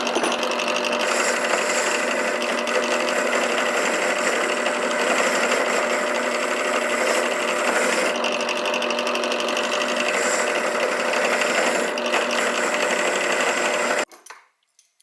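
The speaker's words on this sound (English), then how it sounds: "I hooked up this terrible idea to my drill press. It's a steel wire wheel." A steel wire wheel chucked in a drill press scours a CRF50 motorcycle frame's swing arm pivot and engine mounts, a steady loud gritty whirring and scraping that runs unbroken for about fourteen seconds before cutting off abruptly.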